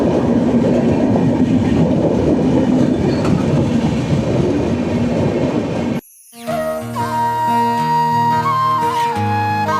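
The Farakka Express rolls through a railway crossing near Buniadpur station with loud, continuous rumbling and clacking wheels. A sudden cut gives way to a different, tonal passage.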